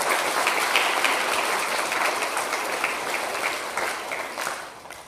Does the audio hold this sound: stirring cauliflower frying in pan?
no